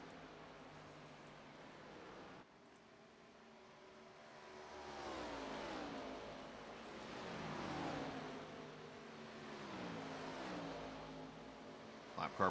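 Race cars in an All American Cup Series race at the Brickyard, heard from a distance as a steady engine roar that swells and fades as the cars go past, with no talking.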